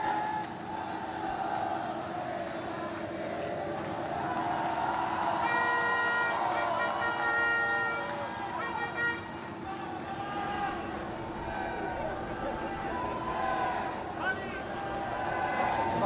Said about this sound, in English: just listen to that crowd there